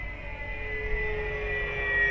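An XFly Twin Otter 1800mm RC model plane drones overhead with a steady tonal hum from its twin motors, moderately distant and slowly growing louder.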